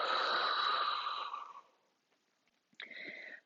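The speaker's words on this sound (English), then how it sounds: "Big, deep inhales through the nose. Long, slow exhales out of the mouth." During a prenatal yoga session, a slow, breathy exhale lasts about a second and a half and fades out, followed by silence and then the start of another airy breath, heard close and without speech.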